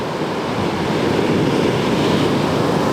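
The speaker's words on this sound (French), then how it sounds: "Elle est énorme cette vague." Huge shorebreak waves crash onto a beach, a continuous loud roaring wash of surf and churning water with wind noise, no voices.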